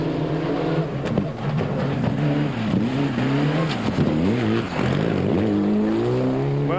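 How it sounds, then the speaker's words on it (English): A rally car on a gravel stage at Rally Wairarapa, New Zealand, with a flat, down-on-power exhaust note, the engine droning and shifting in pitch as it revs and eases off, fairly close and loud. "it certainly sounds like that car's down on power with that exhaust note"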